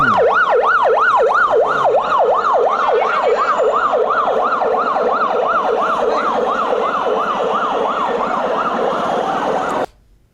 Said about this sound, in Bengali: আপনারা দেখছেন যে এই যে অ্যাম্বুলেন্সে করে রোগী আসছে